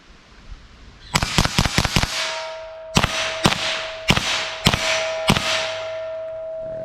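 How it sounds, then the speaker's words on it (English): .22 LR rifle firing Winchester Varmint HE 37 grain hollow point rounds: a quick string of five sharp cracks, then four more evenly spaced shots, loud and close, each with a ringing tail and a steady tone lingering afterward. "All right, now we have our Winchester Varmint HE 37 grain. Let's see how this stuff shoots."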